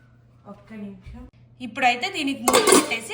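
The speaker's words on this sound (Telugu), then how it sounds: "ఇప్పుడైతే దీనికి మూత పెట్టేసి" A lid clatters onto a bowl of mirchi bhajji batter in a home kitchen, a few clinks and a louder metallic rattle near the end, close and distinct, following a woman's speech.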